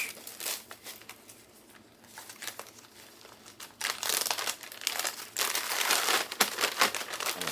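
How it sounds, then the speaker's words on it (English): Freeze-dried strawberry pie ball mix and honey graham crackers are crushed by hand inside a Ziploc plastic bag, giving close, continuous crinkling and crunching that grows louder and busier partway through. "Stick those in my Ziploc bag here and crumble those up."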